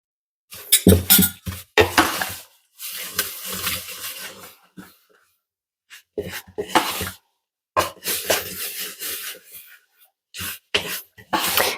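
A whisk mixes Irish soda bread dough for air-fryer buns in a bowl, giving close, loud bursts of scraping and metallic clinking against the bowl in several stirring spells separated by brief pauses, with no talking.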